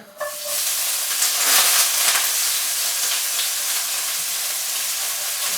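Chicken hitting a hot wok gives a loud, steady frying sizzle and hiss that begins abruptly and holds for several seconds, alone with no talk.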